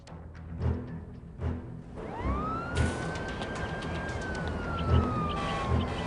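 An ambulance siren cuts in about two seconds in, holding a sustained, slowly bending wail with faint thumps and room noise underneath, in a French-dubbed television drama scene.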